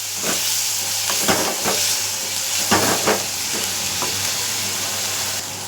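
Onion and curry leaves sauté in a hot pan with oil, giving a steady, close sizzle broken by several scraping stir strokes that go on throughout.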